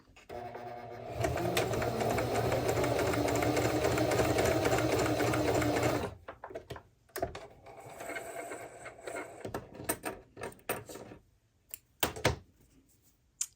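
Freshly cleaned and oiled sewing machine running test stitches, a loud close whirring motor for about five seconds, then stopping, followed by scattered handling clicks and thumps.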